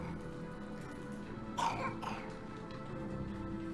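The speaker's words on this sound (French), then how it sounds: "vous entendez la petite qui tousse beaucoup" A girl in the video game Xuan Yuan Sword VII coughs from inhaled smoke, with one short, faint burst of coughing partway through over a low ambient game backdrop.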